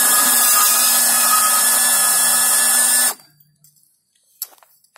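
A saw cuts through a pipe during plumbing work, giving a loud continuous rasping grind for about three seconds that stops abruptly, followed by a few faint clicks and handling sounds.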